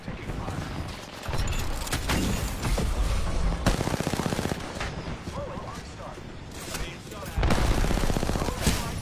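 Heavy gunfire crackles in a combat video game, with dense bursts of shots and booms across the stretch and a voice talking over the noise.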